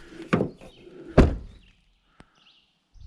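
A trailer's long-stuck door pops open with two sharp thunks and a rattling bang, followed by near silence and a small click.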